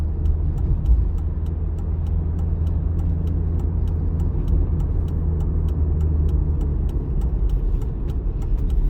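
A car drives steadily during a driving lesson while turning off the road, with a continuous close engine and road rumble and a faint rhythmic ticking above it, likely the turn signal.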